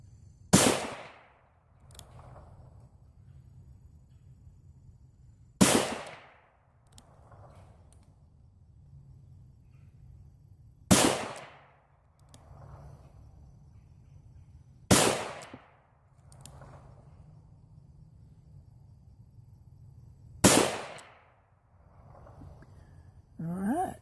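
A .357 pistol fires 130 grain hollow point loads outdoors, five sharp loud single shots spaced about five seconds apart, each followed by a short echo, with quiet between.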